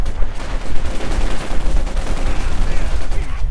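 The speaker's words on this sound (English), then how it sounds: "Heavy machine gun fire rakes through the Panzer Grenadiers" Heavy machine gun fire in a Company of Heroes 2 battle rattles in a loud, dense, continuous stream with rumbling low end, close and overwhelming throughout.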